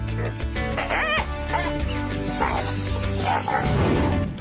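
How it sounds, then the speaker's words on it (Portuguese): A dog confronting an iguana barks and yips several times in short bursts over a busy background of music and other noise. "Esse cão é claramente melhor em latir do que em agir"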